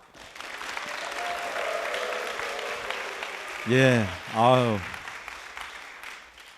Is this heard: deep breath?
no